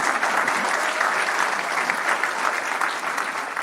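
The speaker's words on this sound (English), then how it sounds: "Can you give them a hand clap today?" A school audience at an 8th grade graduation claps steadily, a dense, even wash of applause from many hands that holds at a strong level for a few seconds.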